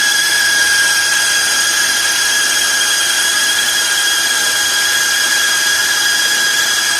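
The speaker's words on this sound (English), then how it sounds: "It's a 100-year-old lathe that I use." A 100-year-old 1913 Seneca Falls lathe cuts a custom throw-out bearing with cutting fluid, producing a steady, loud mechanical whir with a thin sustained whine and no talking.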